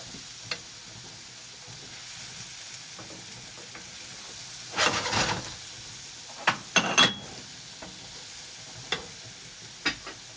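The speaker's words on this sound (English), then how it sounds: "I'm gonna put the flour and then the beef broth" A steady hiss of sizzling fills a gravy pan as flour and beef broth are stirred in for Salisbury steak with mushroom gravy and onions, with a few sharp scrapes and clinks of the spoon against the pan.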